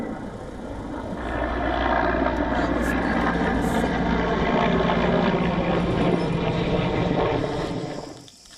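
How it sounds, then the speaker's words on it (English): Helicopters dumping water on a raging wildfire near Marmaris, a steady loud rotor and engine drone holding for several seconds, then fading at the end. "Helicopters were seen throwing water on the flames."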